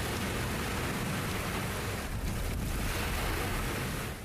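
Waves wash in on Lake Michigan, a continuous roar of surf mixed with heavy wind buffeting the microphone, loud and close with no speech.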